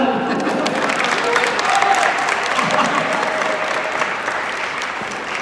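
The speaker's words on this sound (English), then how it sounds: "Let's give him a clap." A crowd applauds Vance Johnson after a short race, with sustained clapping and some cheering, voices talking underneath throughout.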